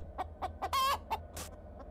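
A video game chicken clucks in short, rhythmic bursts, with one longer squawk in the middle, sounding crisp and isolated over a faint low hum.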